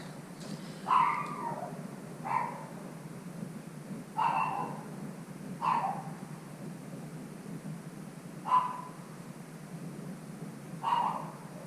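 A dog barks indoors in six single woofs spaced a second or two apart, moderately close over a low steady background hum.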